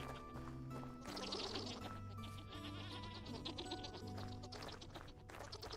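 Several goats bleat in Vintage Story, a survival video game, their repeated wavering calls overlapping at close range over a steady layer of game music and ambient tones.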